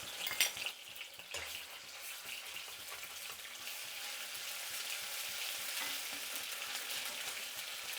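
Ginger garlic paste and green chillies fry in oil, giving a steady, soft sizzle with a few stirring clatters near the start, with no voices.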